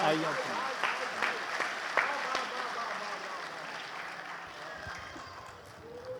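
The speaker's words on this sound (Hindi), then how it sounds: "कवि के लिए एक बार हाथ उठाकर जोरदार तालियां बजा दीजिए।" Applause from an audience at an NTPC Hindi poetry gathering (kavi sammelan), a fairly steady wash of clapping with scattered sharper claps, mixed with crowd murmur and some voices.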